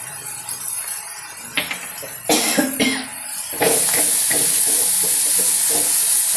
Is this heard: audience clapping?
no